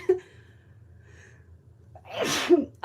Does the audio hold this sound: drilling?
no